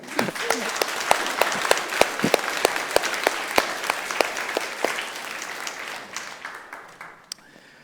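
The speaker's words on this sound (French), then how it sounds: "Je pense qu'on peut encore les applaudir." A church congregation at a Sunday service applauds a married couple celebrating their anniversary, with steady dense clapping that fades out toward the end, and a voice briefly heard.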